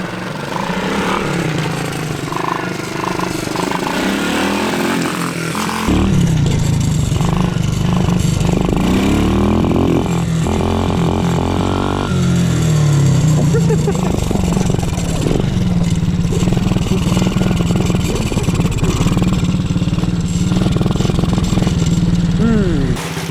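A 110cc pocket bike fitted with a new cheap aftermarket carburettor runs loudly and close by, its engine buzzing steadily with revs rising and falling and a slight hesitation, while a voice talks over it.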